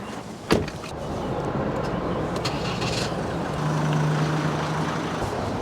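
A door thuds shut, then a truck engine rumbles steadily, a low drone rising slightly as it gets under way.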